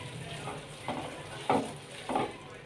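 Sliced capsicum is stirred in a hot pan, giving a soft steady sizzle broken by four distinct scraping stirs spaced about half a second apart.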